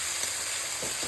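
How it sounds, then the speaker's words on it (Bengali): Crushed garlic sautéing in a pan for a spicy Bengali fish curry, a steady bright sizzle running throughout the short moment with a few faint stirring scrapes, no voices. "একটু রসুন থেঁতো দিয়ে কষিয়ে নেবো"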